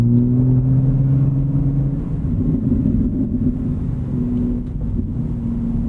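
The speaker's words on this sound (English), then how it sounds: "You can hear that burble tune, which I'm sure is gonna be very polarizing in the comments," Low, rumbling exhaust burble from a 2025 BMW G80 M3 Competition xDrive with the S58 engine, a steady droning idle-to-cruise tone with crackly texture, heard close and loud throughout with no talking.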